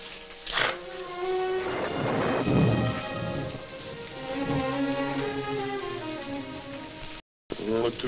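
Rain falls steadily while thunder rolls low underneath, with tonal music-like sounds mixed in from a 1948 western film scene.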